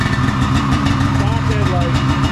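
A Polaris vehicle engine idling: a loud, steady, rumbling drone with a rough low pulse that stays even throughout, close up, with a person's voice faintly over it.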